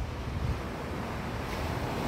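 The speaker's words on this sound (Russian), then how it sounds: "Видим море, залив мексиканский. Прибой шумит." Surf rolling onto a Gulf of Mexico beach at South Venice, heard as a dense, steady roar of breaking waves mixed with wind buffeting the microphone, continuous and loud throughout.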